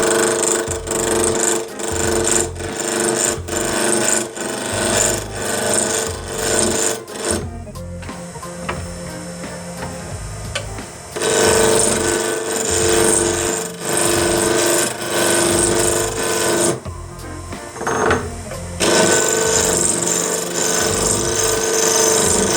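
A negative rake cutter turning square wood stock round on a lathe, a steady gritty scraping and rasping that runs continuously, with two brief quieter pauses between cuts.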